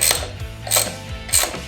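A ratchet wrench on a 3/4-inch rear shock bolt of a Harley-Davidson FXR clicks close by in three firm ratcheting strokes, each a burst of quick metallic pawl clicks.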